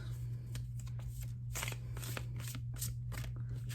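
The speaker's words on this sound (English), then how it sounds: "Don't laugh at me for shuffling this deck funny." An oversized tarot deck being shuffled by hand, the large unbent cards giving repeated soft riffling bursts close up over a low steady hum, with no voice.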